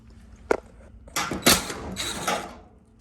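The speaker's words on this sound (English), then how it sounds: "we do have to remove these screws here along the edge" Screws being worked out of a Whirlpool/Maytag dryer panel during a repair, a short sharp click followed by a couple of seconds of creaking, ratcheting mechanical turning up close.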